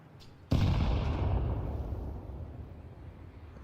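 Counter-Strike 2 gunfire exchange: a sudden loud burst at onset followed by a heavy, decaying rumble of shots and impact noise.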